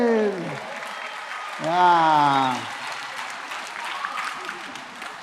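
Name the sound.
audience applause at a school assembly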